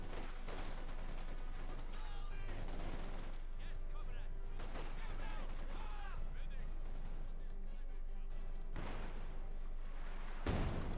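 Continuous gunfire from units in the Company of Heroes 2 strategy game, steady rattling bursts of small-arms fire layered over a battlefield din, with someone commentating over it throughout.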